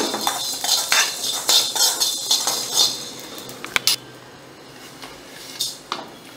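Spices such as cumin and pepper dry roasting in a pan, stirred with a utensil that gives rhythmic scraping and rustling strokes, then a clink and a few quieter scrapes.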